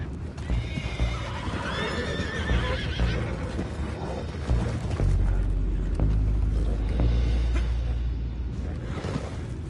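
Horses in Red Dead Redemption 2 whinny and neigh amid trotting hooves and a low rumbling background, with sounds swelling and fading across the scene.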